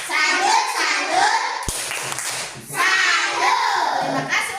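Children clap the 'tepuk salut' routine in a classroom, with a group of young voices chanting along in rhythm. A brief pause midway, then the clapping and chanting resume, close and lively.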